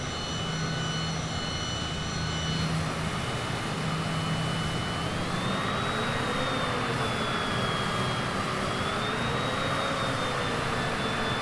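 A Cessna Citation CJ4 business jet in Microsoft Flight Simulator 2020 taxis with a steady, loud turbine hum and whine, its pitch sliding slowly up and down as thrust changes, continuous throughout with no talk.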